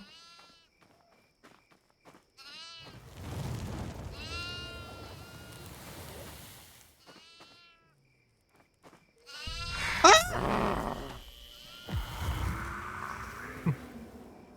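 A goat in the Devour horror video game lets out several wavering, nasal bleats in short bursts, mixed with other game sounds and loud thumps.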